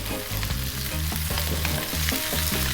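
Broccoli, celery, mushrooms and other vegetables sizzle and crackle as they are stir-fried in a hot pan for veg fried rice, with steady frying noise and repeated scraping, tossing knocks of the utensil.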